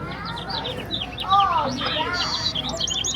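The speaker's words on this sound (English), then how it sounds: "Supposed to know what kind? Songbirds." Recorded songbird calls played in a museum forest soundscape exhibit, a lively stream of varied chirps and whistled tweets over background murmuring and room noise.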